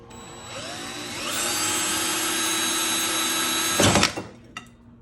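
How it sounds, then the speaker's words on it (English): A power drill fitted with a wood bit bores into an ostrich egg shell, a loud rising whine that holds steady, then a sharp crunch as the bit breaks through before the motor winds down. "I'm going to start using a wood bit on my drill since it's got the point and can actually pierce the shell."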